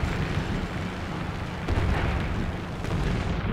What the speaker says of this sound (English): Drop a bomb.